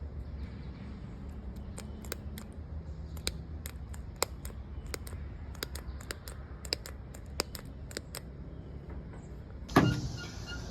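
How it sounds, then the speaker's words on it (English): The starter on a Dodge Coronet 500 with a 318 engine, suspected bad, gives a string of sharp, irregular clicks over a steady low hum, then a louder clunk near the end. "we got a little bit of clicking on the starter when you hit the button"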